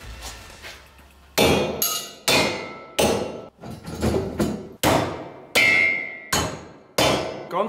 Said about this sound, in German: Dann nehmen wir uns einfach einen handelsüblichen Hammer und schlagen die Schrauben ganz vorsichtig aus